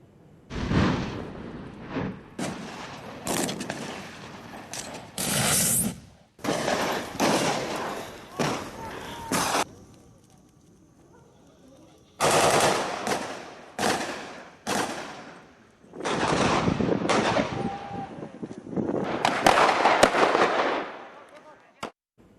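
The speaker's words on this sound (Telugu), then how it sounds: "లోపల తలదాచుకున్న 3 టెర్రరిస్టుల్ని మట్టుబెట్టేందుకు కాల్పులు జరిపారు" Gunfire during a security forces' encounter with three terrorists near Tral, Jammu and Kashmir: sharp cracking bursts and thuds, some rapid and sustained, others spaced out, separated by quieter stretches.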